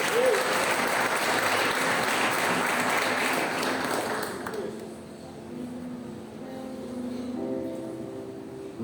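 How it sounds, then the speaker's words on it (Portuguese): A church congregation at a Baptist service applauds loudly for about four seconds, then the clapping fades out and a voice continues over a quiet background. "Você pode aplaudir o Senhor?"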